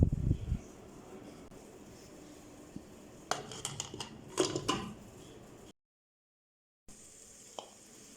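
Metal clinks and clatter as a pressure weight is fitted onto the lid of a pressure cooker cooking methi gosht, a burst of close clanks followed by a short silence and a faint later knock.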